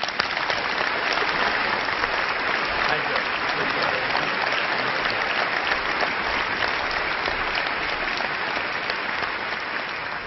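A large conference audience applauds as Dr. Denis Cortese is welcomed at a healthcare process improvement event, with steady, sustained clapping that stays loud and even for about ten seconds.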